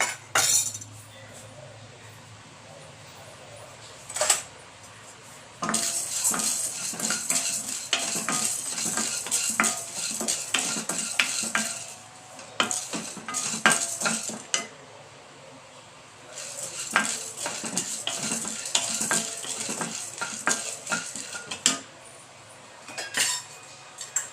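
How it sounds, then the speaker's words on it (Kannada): Chana dal frying in a little oil in a pan for idli sambar, first on high flame, then low: a soft continuous sizzle broken by repeated scraping and clinking stirring strokes, with brief quiet pauses between bursts. "ಇದು ಸ್ವಲ್ಪ ಕಡಲೆಬೇಳೆ ಫ್ರೈ ಆಗ್ತಾ ಇದೆಯಲ್ಲ"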